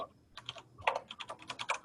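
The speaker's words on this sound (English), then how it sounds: "Whoever's typing, it's really loud." Loud computer keyboard typing during an online meeting, a quick irregular run of close clicking keystrokes with a brief pause partway through, heard on its own.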